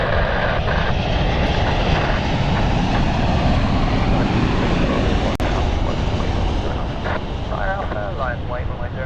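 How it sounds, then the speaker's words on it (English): KLM jet aircraft bound for Amsterdam at London City Airport, a loud continuous engine roar close by with wind buffeting, and brief radio-style voice chatter near the end. "This is our Amsterdam flight"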